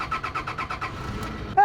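A diesel Toyota Hilux Surf engine being started: a rapid, even run of starter-motor cranking pulses, close and fairly loud, ending with a short burst as the engine catches.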